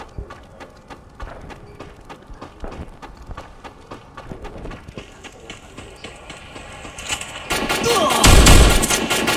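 Gunfire in a ranked-mode shooter match: scattered clicks and shots build into a dense, loud burst of rapid firing near the end, with footsteps and game effects running underneath.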